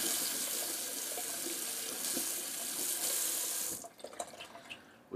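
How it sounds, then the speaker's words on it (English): Tap water runs steadily into a sink as a safety razor with a Personna Red blade is rinsed, a loud, even splashing stream that stops near the end, leaving a few faint drips and clinks. "Just gonna rinse off the razor."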